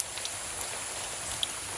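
Rain falling on a pechay farm, a steady soft hiss of drops with occasional faint individual patters, no voices.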